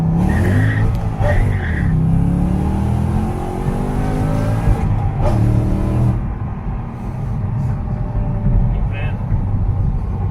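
A supercharged 2006 Ford Mustang pulls hard through third gear, its loud engine rising and falling under the wind from inside the car. Someone talks over it throughout.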